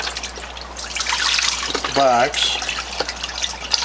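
Low-sodium chicken broth pours from a container in a soft, continuous liquid trickle under a man's speech.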